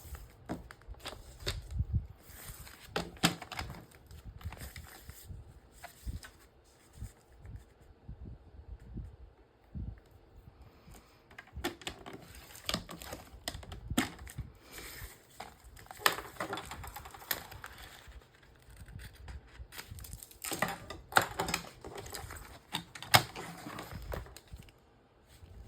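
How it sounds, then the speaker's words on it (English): Paper being cut by hand into an 11-inch-high photo mat for a scrapbook page, with close, irregular bursts of scraping, snipping and tapping spread across the stretch, alone without talk. "I'm going to cut this to be an 11-inch high photo mat"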